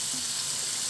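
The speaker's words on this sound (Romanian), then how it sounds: "Lăsăm un pic carnea să se prăjească, că primește un gust mai bun dacă e prăjit." Meat frying in oil at the start of a Székely goulash, a steady close sizzle with a soft hiss running evenly throughout, no voices.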